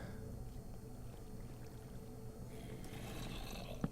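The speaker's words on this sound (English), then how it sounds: "Oh yeah, that's where that water's coming down." Flowing water in Minecraft makes a steady rushing, bubbling wash that continues unbroken and moderately close for several seconds, with a brief soft splash near the end.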